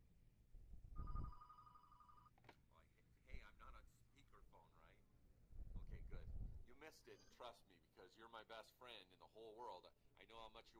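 An electronic device in a video game rings with a short, steady tone, then gives a couple of quieter buzzing pulses, while a person talks over it at length.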